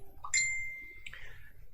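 A phone notification ding sounds during a miniature painting session: two bright electronic tones, the first ringing out clearly and the second a softer follow-up about a second later, over a quiet low room hum.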